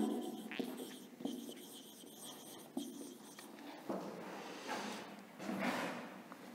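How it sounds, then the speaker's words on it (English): A teacher writes on a board during a social science lesson, producing a quiet series of short scratchy strokes and taps in an irregular rhythm, close by and alone without talk. "Let me write."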